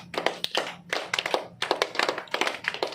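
Bursts of brisk hand clapping in a yoga class, struck as an acupressure exercise: loud, close claps in quick rhythmic runs separated by short pauses, with no talking over them.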